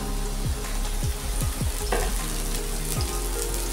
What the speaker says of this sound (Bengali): আগে মাশরুমটাকে একটু ভালো করে ভেজে নিচ্ছি